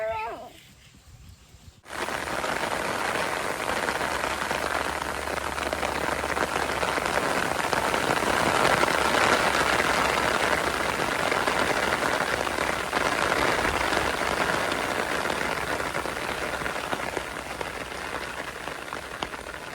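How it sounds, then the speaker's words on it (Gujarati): Rain falls steadily outdoors, starting abruptly after a brief quiet moment and then continuing as a dense, even patter and wash on surfaces, loud and close throughout. "હાલો તો વરસાદ એનું કામ ચાલુ કરી દીધું"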